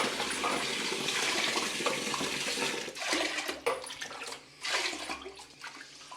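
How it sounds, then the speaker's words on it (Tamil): Water gushes and splashes into a vessel of rice being rinsed for idli batter, with a strong running pour that stops briefly, resumes and then tapers off, heard up close. "இது வந்து 3வது களைஞ்சிட்டேன், தண்ணி ஊற்றுறேன்."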